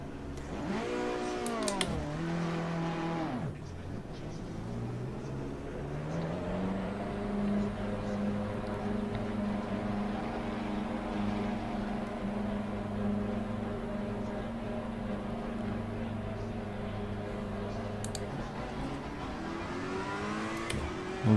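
Evo race car engine on the Imola circuit in Assetto Corsa Competizione, revving up through gears at first, then holding a steady droning tone for a long stretch before rising again at the end; moderate and continuous.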